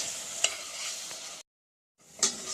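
Ginger garlic paste sautéing in a pan for a mushroom curry, giving a steady soft sizzle with a couple of sharp stirring scrapes, broken by a short silent gap before the frying resumes.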